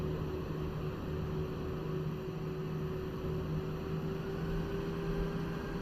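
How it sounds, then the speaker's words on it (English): CFM jet engines of a Toliss A319 airliner in X-Plane 12 releasing the brake near the runway hold at Gatwick, giving a steady, loud droning rumble with a constant tonal whine throughout, no talking. "CFM engines, guys. CFM engines."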